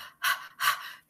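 A storyteller voices a rhinoceros with two sharp, breathy gasps, close and fairly quiet, separated by a short pause, imitating the animal's startled intake of breath.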